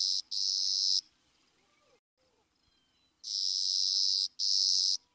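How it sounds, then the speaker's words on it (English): Clay-colored sparrow song: four dry, flat, insect-like buzzes in two pairs, the first pair near and loud, a pause of quiet outdoor ambience, then another loud pair of even buzzes. "The clay-colored sparrow's song is a dry, insect-like series of buzzes that can have 2 to 8 syllables and often lacks intonation."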